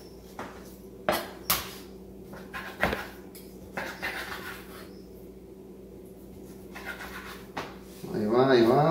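Pork chicharrones drop into a clay casserole pot with a series of close clunks and scrapes spaced out over several seconds, while a voice speaks throughout.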